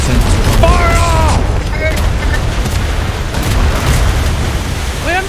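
Ship cannons firing during a naval battle aboard a sailing vessel in a video game, a loud continuous roar of booms and rumble, with voices calling out over it.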